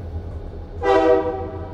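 A loud, sustained train horn blasts close by for about a second, rising sharply out of a low rumbling background and then fading.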